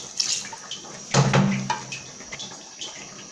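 A short splash of water pours into a pot of meat with seasoning cubes, salt and onion, a brief liquid gush amid quieter kitchen clinks and drips.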